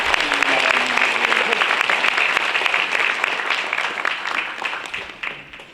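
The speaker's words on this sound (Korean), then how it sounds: "여러분들의 정말 뜨거운 박수, 열렬한 환호 부탁드립니다." Audience applauses and cheers as a former prime minister is welcomed at a lecture event, dense steady clapping from a large crowd that holds strong and then gradually thins toward the end.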